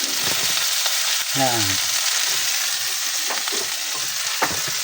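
Onions fry in a pan with a constant bright sizzle and crackle, while people talk quietly and briefly in the background.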